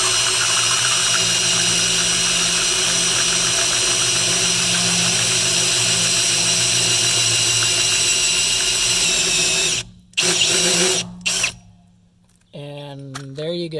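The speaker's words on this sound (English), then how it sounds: "just drill until you get all the way to the base of the lug nut" A loud power drill with a hole saw runs continuously, grinding steadily through a Ford F-150 lug nut cover, then cuts out in a few bursts before stopping, followed by brief clatter and a rising whir.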